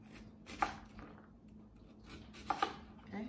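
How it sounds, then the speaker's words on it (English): A knife chopping through stacked discs of sweet potato on a cutting board, with two sharp, close thunks about two seconds apart amid quiet kitchen background. "I like to cut them into discs and then I just kind of stack them up and chop them this way."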